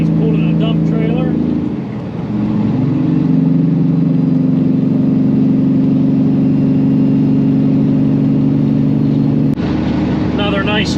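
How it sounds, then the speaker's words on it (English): A truck passes on a highway with a loud, steady engine and road roar that swells and holds for several seconds before dropping away, while a voice talks over the start and end. "Another nice truck coming by us here."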